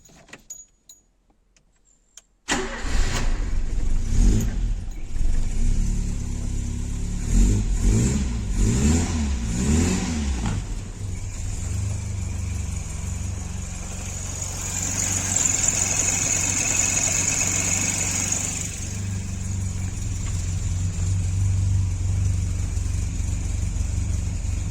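Ford Escort MK2 barn-find car, fitted with a distributor from an old Pinto, cranks and starts after a short quiet gap, then revs in several sharp bursts before settling into a steady close idle, no talking.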